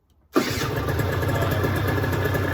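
Silence breaks as an Aprilia RS50 motorcycle engine catches suddenly and settles into a loud, steady idle, buzzing close by and continuing without pause.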